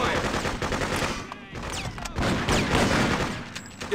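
Rapid automatic gunfire in the video game Freedom Fighters, loud and close, in continuous bursts with sharp cracks layered over a dense battle din.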